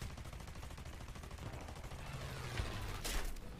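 Aircraft cannon and machine guns on a Ki-45 fighter firing in War Thunder, a dense continuous rattle of rapid shots that swells into heavier bursts near the end, close and loud.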